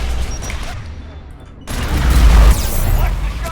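A big gun fires in Mass Effect 3 during the Geth Dreadnought fight, a heavy booming blast with a deep low rumble that swells after a lull and rolls on loudly, mixed with game noise.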